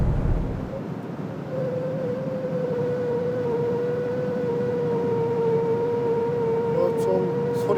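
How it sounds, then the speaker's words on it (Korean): Inside a Hyundai Ioniq 6 at high speed, steady broadband wind and road roar fills the cabin, with a thin electric motor whine rising slowly underneath, continuous and moderately loud. "같은 구간에서 우리 아이오닉 6의 소음과 비교를 해볼까요?"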